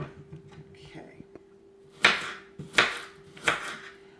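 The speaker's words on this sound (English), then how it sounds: "Now what I'm going to do now is I'm going to cut in some onions." Knife chopping onions on a board for beef stew, three distinct, fairly loud cuts spaced at steady intervals, preceded by soft whispery talk and a steady low hum.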